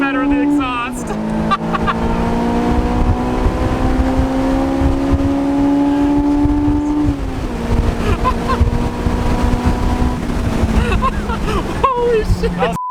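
A Honda S2000 with a K-series swap and aftermarket exhaust drones and rises in pitch as it revs up and shifts, sustained and close, with voices faintly underneath.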